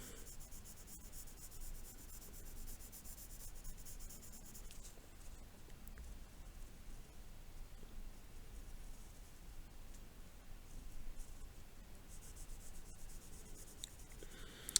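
A pencil shades wood grain on paper with continuous close, dry scratching and rubbing strokes, soft and even throughout with no talking.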